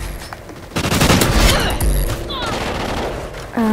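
Rapid automatic gunfire from a Call of Duty: Ghosts gun game match, loud and dense bursts with sharp electronic game effects and brief tonal chimes near the end.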